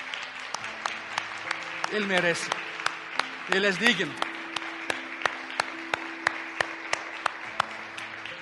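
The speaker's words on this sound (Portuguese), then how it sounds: "dê um aplauso a esse Rei de graça" A standing church congregation claps for God, a run of sharp, evenly spaced claps that carries on throughout while someone speaks and sings briefly over it.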